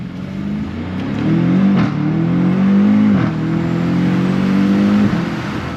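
A 2022 BMW M5 Competition engine revving loudly and steadily up close, its pitch rising and falling in sustained pulls, with no clear exhaust pops standing out.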